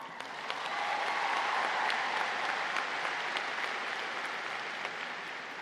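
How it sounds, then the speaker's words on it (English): A large graduation audience applauds steadily at a high school ceremony, a dense wash of many clapping hands swelling in the first seconds and holding evenly with no voices on top. "Round of applause for everyone."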